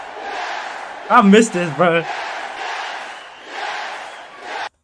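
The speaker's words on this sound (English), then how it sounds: "Everybody in the crowd is screaming yes like that." A wrestling crowd screams and chants in loud, sustained waves, while a voice speaks briefly over the roar.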